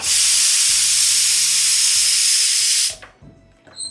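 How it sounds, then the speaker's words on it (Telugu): A pressure cooker cooking lentils lets out a loud, continuous hissing whistle for about three seconds, then cuts off abruptly, leaving quieter background noise. "కుక్కర్ విజిల్స్ వచ్చేసాయి"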